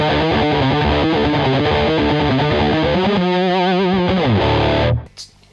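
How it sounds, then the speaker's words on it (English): Distorted electric guitar chords with a dull, muffled tone lacking treble, played loud and continuous before cutting off abruptly near the end. "if we take all the tone out of this pedal and then play that, it sounds dramatically different"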